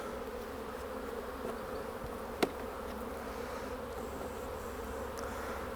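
Honey bees buzzing steadily around an open hive during a spring inspection, a continuous dense drone close by, with one brief sharp tap partway through.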